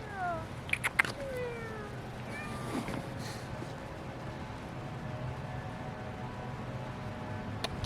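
Several cats meowing along an outdoor trail: a cluster of rising and falling meows and mews in the first three seconds over steady outdoor background noise, then only the ambient hum for the rest.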